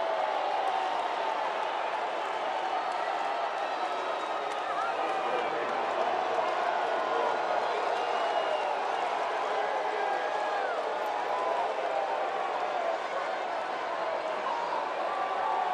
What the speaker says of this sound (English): Some Tigers faithful are cheering, but they're heavily outnumbered by White Sox faithful who are booing him mercilessly